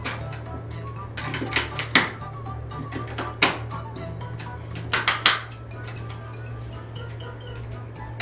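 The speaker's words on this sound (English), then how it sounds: "Install 4 AA batteries into the controller like this." Four AA batteries are pushed one by one into the rear battery compartment of a small remote controller, producing a series of close, sharp plastic clicks and taps with a quiet hum underneath.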